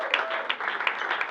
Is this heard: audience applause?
yes